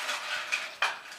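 Ice cubes tumbling into a metal cocktail shaker, a few sharp clinks and clatters in quick succession, close and fairly quiet, with no talking.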